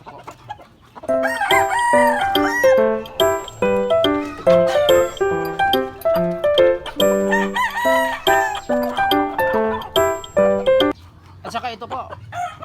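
A one-year-old gamefowl bullstag rooster, a Wingate cross out of a hatch green hen, crows repeatedly in loud, close, rapid calls with clucking between them, filling most of the stretch before fading near the end.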